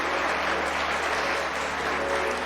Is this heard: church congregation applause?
yes